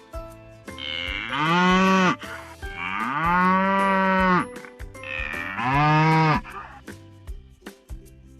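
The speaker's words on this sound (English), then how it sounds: "Cow." Cartoon cow mooing three times, each long, low and drawn out with brief gaps between, loud and close over a soft background tune.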